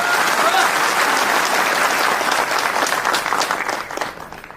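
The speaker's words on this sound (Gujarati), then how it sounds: "પાડો જોરદાર તાળીઓ એના માટે." An audience at a Thakor Sena political gathering claps loudly and densely, a sustained wash of many hands that thins and fades toward the end.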